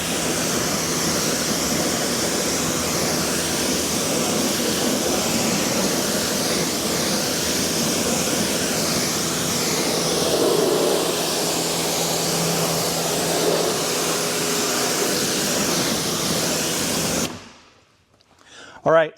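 Water spray rinsing a car with a ceramic coating, a loud steady broadband hiss lasting about seventeen seconds before cutting off abruptly.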